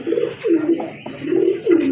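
Pigeons at a pigeon sale coo in a close, steady series of soft, rolling calls, several low phrases overlapping across the stretch with no one talking.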